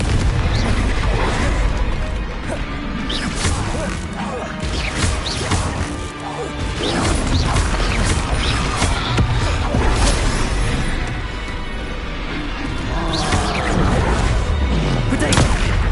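Spell impacts and explosions crash and boom almost constantly during combat in the Hogwarts Legacy video game, a loud, dense barrage of whacks and bursts that goes on throughout, with occasional voices shouting over it.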